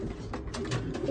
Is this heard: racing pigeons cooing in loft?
yes